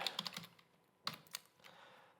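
Fingers type on a computer keyboard in quick close bursts of clicks, with a short pause, then a few more scattered keystrokes.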